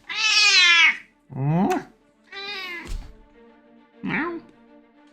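A pet cat meows off camera in a quiet room, with four distinct meows, two long and loud and two shorter, separated by pauses. A person's voice briefly speaks among them.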